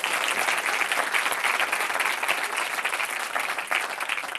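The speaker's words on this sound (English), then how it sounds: "So shall we have a round of applause for Mr. Neil Brand on the piano at this poin" A theatre audience applauds a silent-film pianist with steady, dense clapping, loud and close, filling the whole stretch without a break and with no talking.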